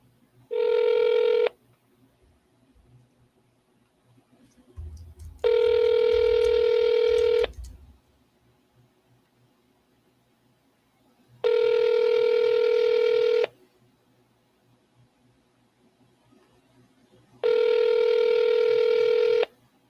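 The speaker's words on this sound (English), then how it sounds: "I'm gonna double dial." A phone line gives four evenly spaced electronic tones about two seconds each, like ringback during a call, with quiet pauses between them and a brief low thump before the second tone.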